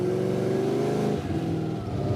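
Car engine accelerating, a loud, continuous close-up engine drone with a steady rising tone that eases slightly partway through, with no talking over it.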